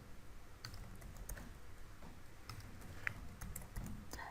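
Keys clatter in quick, uneven bursts as someone types ASP.NET Core Web API code on a computer keyboard, with soft close clicks over a quiet room and no talk.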